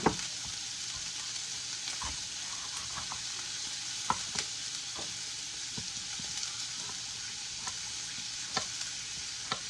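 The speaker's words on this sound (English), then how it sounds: "I have mushrooms I'm going to throw in. And a little bit of pepper." Mushrooms and a little pepper fry in a pan for ginger beef, giving a steady, fairly soft sizzle with scattered stirring clicks and scrapes throughout, and no voices.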